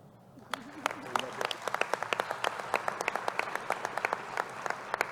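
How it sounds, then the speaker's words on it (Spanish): Audience applause at a political gathering, starting sparse with a few distinct claps and building into scattered, fairly close clapping from a modest crowd, without spoken words over it. "para quien pido un aplauso."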